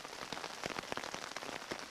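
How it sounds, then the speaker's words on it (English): Steady rain patters on surfaces at a backcountry campsite along Big Brushy Creek, dense and even with scattered sharper drops close by, soft overall and with no voices. "For now though, I'll just kind of rest, enjoy the rain."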